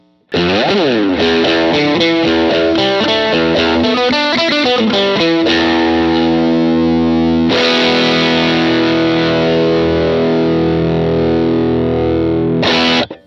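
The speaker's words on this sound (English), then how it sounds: "crank up the gain here a little bit, boost some lows, boost some highs, this is like a gnarly sound" An electric guitar through a Pettyjohn Gold MK II set to high gain with boosted lows and highs plays a gritty riff of choppy notes, then lets a thick chord ring out before a final short stab, loud and up front.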